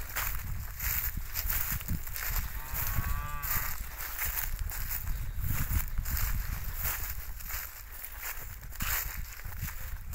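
A fat cow on a Spanish farm moos once, a drawn-out low call rising above steady outdoor noise with some shuffling movement around it.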